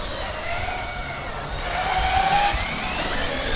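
A Formula Student race car from Vienna with a crunchy, grinding drivetrain runs during an autocross event, giving a continuous whining, gravelly mechanical drone with a rising tonal squeal, moderately loud and unbroken by speech.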